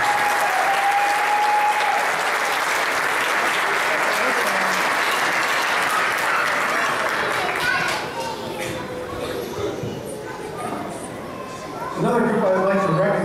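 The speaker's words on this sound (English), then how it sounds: "Let's please give them a round of applause." A round of applause rises from guests at a company holiday party, steady for several seconds before thinning into chatter and children's voices, then a brief renewed burst.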